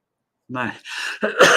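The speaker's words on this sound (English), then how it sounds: "excuse me, I got this cough" After a moment of silence, one person close by gives a short voiced grunt, then a couple of rough coughing, throat-clearing bursts.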